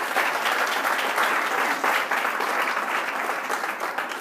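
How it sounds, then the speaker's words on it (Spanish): A church congregation bursts into sustained applause, dense and steady clapping filling the room for several seconds with a few cheers mixed in and no pauses. "Dele un aplauso a Cristo."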